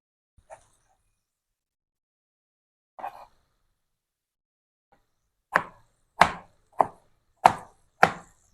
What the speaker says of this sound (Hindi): बिल्कुल इस तरह इतने टुकड़ों में हम अपने सब टमाटर काट लेंगे।